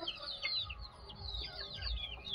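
Aseel chickens and their young call on a free-range poultry farm, a mix of high chirping cheeps and clucks overlapping at moderate distance, with no talk over them.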